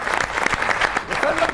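Short burst of studio audience clapping on an Eid special talk show, brisk and close, with voices audible over it.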